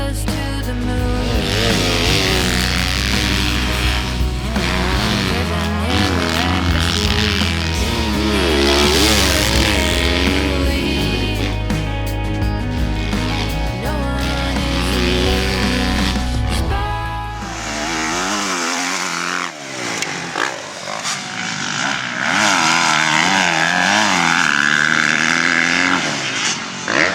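A Yamaha YZ250F four-stroke dirt bike is ridden hard, its engine howling and rising and falling through revs for nearly half a minute, loud and close, with pitch swings as it accelerates and backs off.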